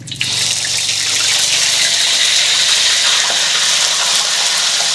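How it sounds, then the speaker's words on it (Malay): Tap water gushes steadily and loudly into a cooking pot while making chicken rendang, a constant splashing rush that continues without pause. "Kita tambah air."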